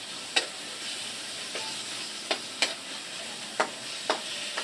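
Ground pork and chayote sizzle steadily in a hot pan while a spatula scrapes and taps the pan every half second or so, close and clear with no talking.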